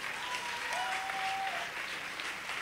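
A church congregation applauding to acclaim the Lord, steady dense clapping from a crowd that fills the whole stretch, with a faint sustained tone drifting above it.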